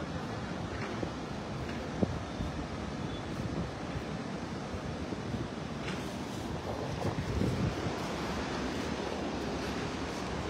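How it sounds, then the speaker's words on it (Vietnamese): A strongly flowing mountain stream near Linh An pagoda in Nam Ban, Lam Dong, rushing in a dense, steady low roar with gusts of wind buffeting the microphone, and no voices. "Dòng suối chảy quá trời luôn các bạn."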